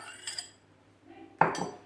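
A spoon clinks against a bowl in a couple of light strokes while fruit chaat with strawberries, pineapple and melon is mixed, quiet and close, with no talk.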